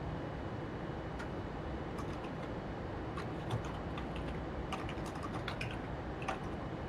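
Fast, clattering keystrokes on a computer keyboard, close and fairly quiet, tapping in irregular bursts over a steady background hum.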